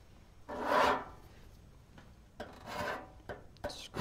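A scribe scratches a mark on a PC case panel where an SSD will be mounted: a few close, rasping strokes separated by short pauses in a quiet room.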